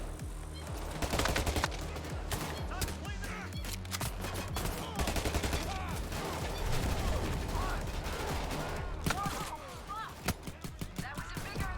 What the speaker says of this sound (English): That was a bigger explosion than I expected.